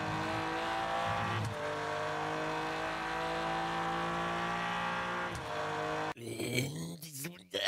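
Race car engine in the Rennsport racing video game, heard from an external view as a sustained, loud harmonic engine drone, briefly dipping twice, then shifting to rougher revving at the end.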